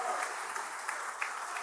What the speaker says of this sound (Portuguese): Dá uma salva de palmas para Jesus agora.